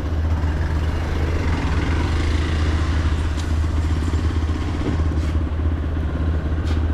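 A Hero Xpulse 200 motorcycle running steadily nearby while someone prepares to do a wheelie, a continuous low engine drone with a rough rumbling texture and no clear rises in revs.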